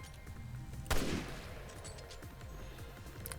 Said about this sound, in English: Such a satisfying bolt action.